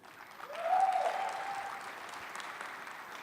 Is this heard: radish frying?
no